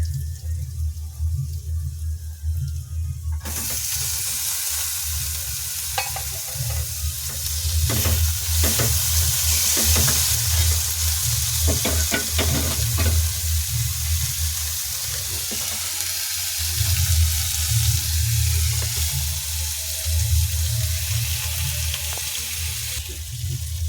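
Potatoes and tomatoes frying in a pan with aubergine, a steady loud sizzle running throughout with a low hum beneath, a quieter opening few seconds, then irregular scraping and stirring clicks over the bubbling.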